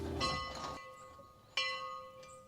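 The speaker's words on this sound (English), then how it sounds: "This room comes with its own bell." A church bell at a converted church hotel rings out twice, each loud metallic strike followed by a long, shimmering, slowly fading hum that carries across the gap between strokes.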